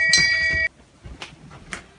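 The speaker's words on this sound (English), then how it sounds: "Ring the bells." Alarm bells ring in a stage production of Macbeth: a loud, bright, sustained bell tone that cuts off abruptly, followed by a quiet stretch with faint scattered knocks.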